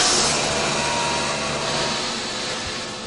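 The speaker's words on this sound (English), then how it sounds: "We will give you a short demonstration of a toilet flush on the A380. So at first we have to evacuate the toilet system." Airbus A380 vacuum toilet system being evacuated, a loud, steady broadband whoosh of rushing air that holds constant for the whole span, slowly easing off slightly toward the end.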